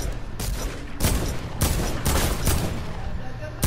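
Several loud bursts of gunfire go off during a squad match in a video game, one after another in a quick irregular sequence.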